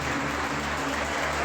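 A church congregation claps together in a brief, continuous burst of applause during a worship service, heard fairly loud with no voices over it.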